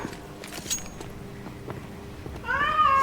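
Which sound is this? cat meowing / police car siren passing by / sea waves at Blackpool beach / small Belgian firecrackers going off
cat meowing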